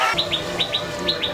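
Water birds at a zoo give repeated sharp, high chirping calls in quick pairs, close and clear over a steady background murmur.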